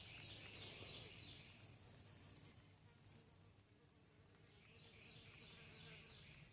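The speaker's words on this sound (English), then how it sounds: "I hear a bee buzzing." A bee buzzes in a vegetable and flower garden with tomatoes and yellow squash, a faint steady drone coming and going among other soft insect and bird sounds.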